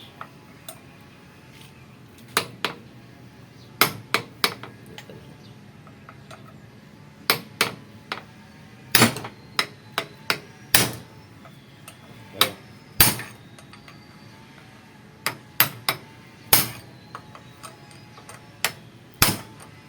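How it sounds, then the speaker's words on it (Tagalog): Sharp metallic hammer strikes on a drill chuck ring out one by one at irregular intervals, some loud and some softer, over a quiet background. "nakuha sa pang 3 pukpok"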